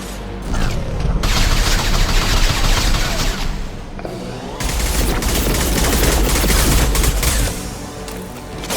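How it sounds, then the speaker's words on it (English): Sustained gunfire in Mass Effect 2, loud continuous bursts of rapid shots in two long stretches separated by a brief lull, close and dominant throughout. "Firing a high-impact shot!"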